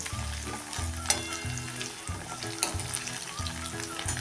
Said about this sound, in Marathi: हा लसूण आपण आता एक दोन ते तीन मिनटं चांगला परतून घेतलेला आहे